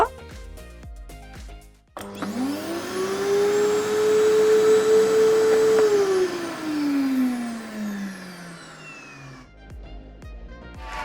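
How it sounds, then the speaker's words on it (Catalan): A vacuum cleaner switches on with a rising motor whine, runs loudly for a few seconds, then powers down with a falling pitch. "És una aspiradora!"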